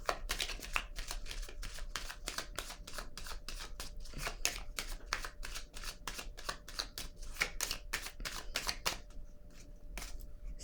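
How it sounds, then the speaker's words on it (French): Tarot cards shuffled and laid down on a table, a long run of crisp, rapid card flicks and slaps, close and steady, ending in a few sparse taps. "Je vais déposer une autre carte"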